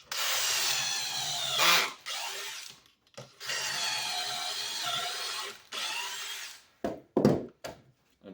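A power drill bores pocket holes into wood for coffee table legs, with several loud whirring bursts separated by short pauses, then quick brief spurts near the end, close and with no talk.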